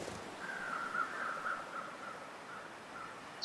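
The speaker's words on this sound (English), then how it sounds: "I can still hear those crows." Faint, distant crows caw as ambient sound in a video game, a thin drawn-out call set against quiet background noise.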